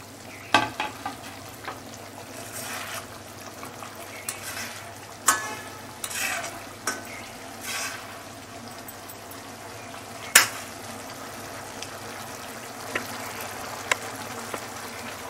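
Parshe fish frying in a pan over raised heat, giving a soft continuous sizzle broken by occasional louder clinks and stirring scrapes, close and without talk.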